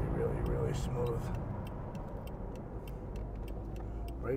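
A 2004 Chevrolet Corvette with a manual transmission and about 26,000 miles is heard from inside the cabin while driving, its engine giving a steady low rumble with road noise throughout, and faint light ticking on top.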